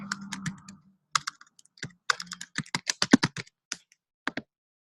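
Someone types on a computer keyboard up close, a run of crisp, quick keystrokes coming in uneven bursts with short pauses between them and no talking.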